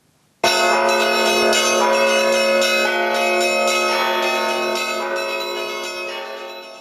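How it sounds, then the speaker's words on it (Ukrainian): Cathedral bells ring loudly and continuously during a church service, several tones overlapping in a rich sustained peal that slowly fades toward the end. "Звук дзвонів лунав протягом служби."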